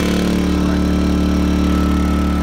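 A Westinghouse iGen 2500 portable inverter generator runs at a steady idle with a loud, even, rhythmic hum and exhaust drone, exhaust facing the listener. It sounds close and holds constant the whole time.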